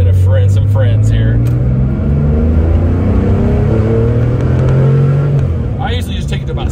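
A 1974 Porsche 911 Carrera engine revs hard up near 6,000 rpm, a loud close rising and falling growl that swells and then settles back toward idle.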